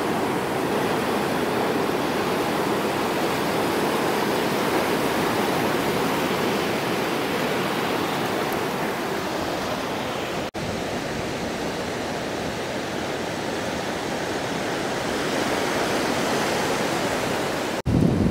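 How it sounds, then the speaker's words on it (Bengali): The sea roars at Dolphin Nose near Vizag as ocean waves break along the coast. The dense, continuous surf rushes on without pause, joined by steady wind noise, with one brief dropout midway. "আর এখানেও শুনতে পাচ্ছেন সমুদ্রের কেমন গর্জন।"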